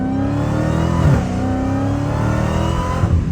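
A Dodge Demon's exhaust blares close by with a sustained engine roar, and two sharp revving surges break through the steady drone, one early and one near the end, with no talk over it.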